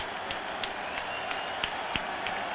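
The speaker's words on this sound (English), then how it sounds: "the crowd urging the Orangemen to keep Miami out of the end zone" A stadium crowd at a Syracuse football game against Miami makes a steady, far-off roar with faint rhythmic claps through it, and no voices stand out above the noise.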